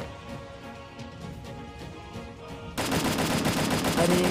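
Automatic gunfire in the mobile battle royale game Free Fire erupts midway as a loud, dense burst of rapid shots, after quieter game ambience.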